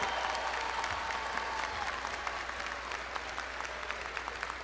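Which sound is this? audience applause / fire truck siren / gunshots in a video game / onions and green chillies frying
audience applause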